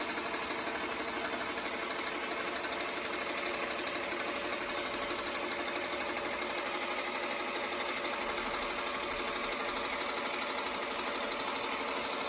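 A Shark IQ robot vacuum rattles steadily and rapidly without pause, loud and close, like a machine with something caught in its moving parts.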